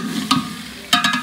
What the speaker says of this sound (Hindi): तो गोश्त भी हमारा तकरीबन फ्राई हो चुका है।